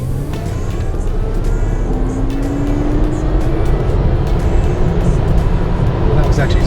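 2020 Tesla Model S Performance launching from 0 to 90 in Ludicrous mode, a rising electric whine with dense road and wind roar throughout, loud and continuous from inside the car.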